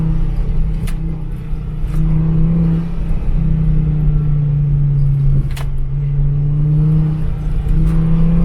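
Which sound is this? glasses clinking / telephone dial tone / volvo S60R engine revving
volvo S60R engine revving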